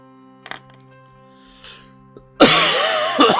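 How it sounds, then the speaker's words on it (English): A person coughs, a few faint quiet coughs and breaths at first, then a loud harsh burst of coughing close to the microphone. "I really apologize for the coughing."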